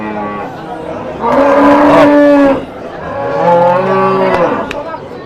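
Cows at a livestock bazaar give two long, loud, drawn-out moos, one after the other, close by, with faint market background behind.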